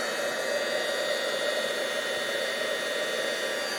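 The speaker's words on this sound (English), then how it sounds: "I'm going to dry it on camera this time. Just heat this up a bit." Heat tool blowing hot air to dry embossed glitter paste, a steady loud whooshing roar held at an even level throughout, close to the microphone with no talking.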